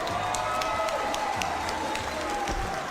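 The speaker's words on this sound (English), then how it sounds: "how about a nice round of applause for both fighters" MMA arena crowd applauding both fighters after a bout, a steady wash of clapping and cheering that fills the hall, with announcer talk and crowd noise mixed in.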